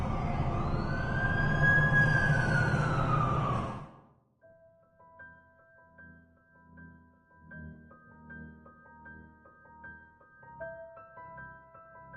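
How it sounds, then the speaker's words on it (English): An ambulance siren wails in the video game The Amazing Spider-Man 2, a loud rising and falling tone that cuts off after about four seconds and gives way to quiet stepped musical notes. "That's the ambulance I called."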